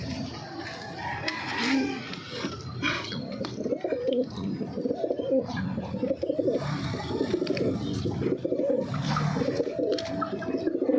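Pigeons coo and flutter in a loft being built on a rooftop. The bird sounds are steady and layered, and rooster-like calls and clucking come through at mid distance.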